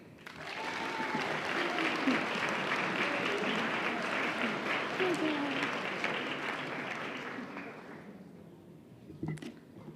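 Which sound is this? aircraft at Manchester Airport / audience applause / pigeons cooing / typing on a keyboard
audience applause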